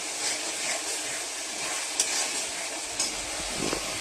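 Potatoes sautéing in oil with spice paste in a home kitchen pan, a steady close sizzle and hiss with occasional scraping stirs of a spoon.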